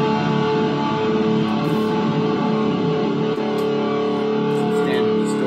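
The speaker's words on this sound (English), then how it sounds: "Standard distortion." A Kramer 2021 Custom Baretta Vintage electric guitar plays sustained chords through a crunchy standard distortion effect, loud and continuous.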